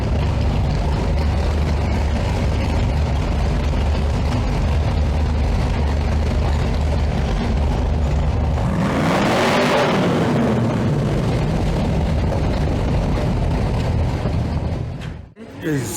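A King Cobra car's engine drones steadily while driving, a low continuous rumble with a brief swell of louder revving midway before it fades out near the end.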